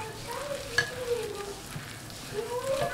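Chopped sweet potato leaves are mixed with flour into a soft batter, producing quiet, wet squelching and light scraping strokes in a slow, uneven rhythm, faint and close with nobody talking.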